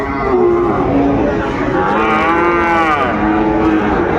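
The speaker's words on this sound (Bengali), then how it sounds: "ষাঁড় বাচ্চা, সুন্দর কোয়ালিটি" A young Sahiwal bull calf moos in long, drawn-out calls, loud and close, against a steady background of chatter at a cattle market in Dinajpur.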